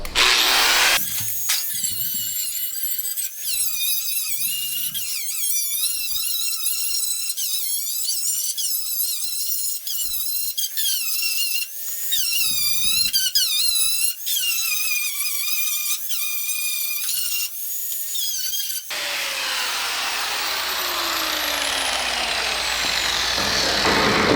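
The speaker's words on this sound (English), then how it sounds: "Real quick, I'm gonna grind that lip off." A grinder cuts a lip off the firewall of a 1967 Camaro, a loud high whine rising and falling in repeated bursts against the metal, then spinning down and stopping near the end with no talking.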